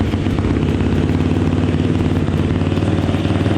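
A quad's engine idling steadily after being cranked over, running on fuel treated with a scented additive; a close, even, throbbing putter with a faint clattery edge, alone without talk.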